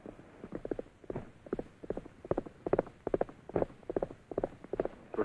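Horse hooves clip-clop in a steady trotting rhythm in a 1944 American Western film, with repeated, fairly close clusters of hoofbeats and no talking.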